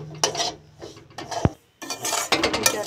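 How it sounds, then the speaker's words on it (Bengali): Semolina toasts in hot ghee in a kadai while a spoon scrapes and stirs against the metal, giving close, gritty rasping strokes in two bursts separated by a short pause, with one sharp clink of metal. "আমি এবার সুজিটা ভেজে নেব"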